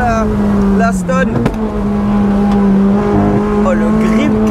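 A high-revving 900-horsepower sports car engine roars and climbs in pitch as it accelerates hard, loud and close, with brief shifts in tone.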